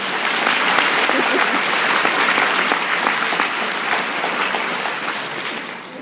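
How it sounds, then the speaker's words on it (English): An audience applauds a departing head of VP at a valedictorian speech ceremony, dense sustained clapping that stays loud and steady throughout, easing slightly near the end. "Round of applause."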